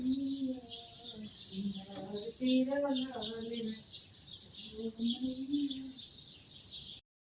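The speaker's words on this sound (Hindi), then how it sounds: "और ये सुबह सुबह पक्षियों की आवाज़ सुनिए आप, कितना सुमधुर है।" Early-morning birdsong at home: soft cooing and warbling calls repeat over a steady bed of high twittering chirps, moderately close, with no speech.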